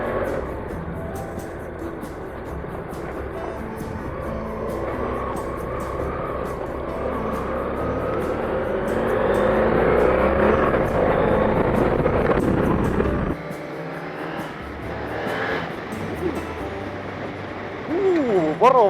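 A motorcycle engine drones steadily while riding up Koli hill in Finland, its tone rising and swelling under heavy wind buffeting, with a rider talking over it.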